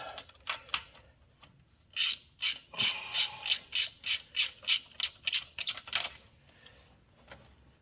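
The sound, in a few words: wrench turning a stubborn bolt on a 1994 Chevrolet C1500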